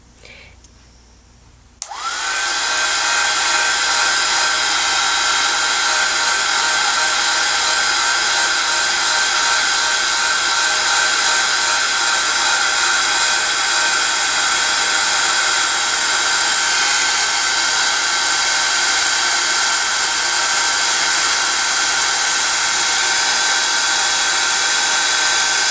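A heat tool switches on after about two seconds and blows a loud, steady whooshing hum with a faint whine while embossing shrink plastic, running unbroken to the end with no talk.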